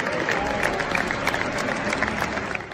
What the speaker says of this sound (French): à la 6e minute, ils ont organisé une salve d'applaudissements pour elle